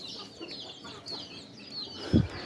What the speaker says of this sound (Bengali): তো সেই মুরগিগুলো এখানে আছে, কিছু ওই যে ঘুরে বেড়াচ্ছে এবং কিছু খাচ্ছে